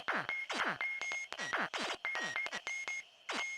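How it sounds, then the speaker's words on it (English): A rapid, chaotic laser battle from a video synthesizer run through lo-fi plugins: dense zapping sweeps and chirps fall in pitch over a sustained electronic tone that keeps breaking up, fairly close and alone. "and then when combined together on this random laser battle sound"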